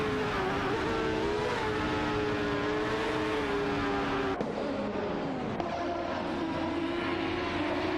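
Race car engines in an AI racing video game, sustained high-pitched revving tones from several cars that shift pitch through turns, loud and continuous.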